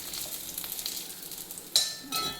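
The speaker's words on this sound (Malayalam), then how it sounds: "കടുക് വറുത്ത്" Mustard seeds fry in hot oil in a pan for banana-flower thoran, giving a bright, dense crackling sizzle that runs steadily, with a sharp pop near the end and a louder burst just after.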